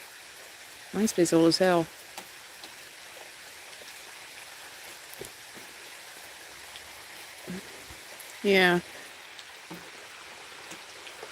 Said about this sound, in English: This rain sounds really nice, but it's picking up